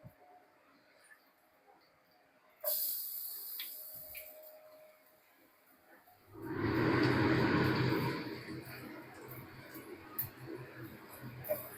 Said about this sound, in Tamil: இப்போ நம்ம அசிஸ்டன்ட் வந்து வெங்காயத்தை அடுப்பில் போடுவாங்க.